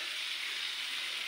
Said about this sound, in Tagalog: Lalagyan natin ng tubig yan guys.